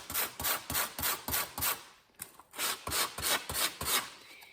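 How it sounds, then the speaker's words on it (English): Sandpaper rubbed along the convex grind of a custom knife blade in steady back-and-forth strokes, a close, rhythmic rasping of about a dozen even passes with a brief pause in the middle. "Stay with the angle of the convex grind. Downward pressure, moving back. The sandpaper will do the rest of the work."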